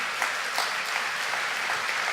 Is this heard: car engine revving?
no